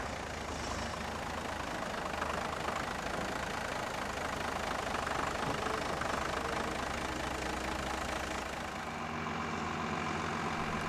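A heavy tractor engine idles steadily with a low knocking rumble, close and continuous throughout, dropping slightly in tone near the end.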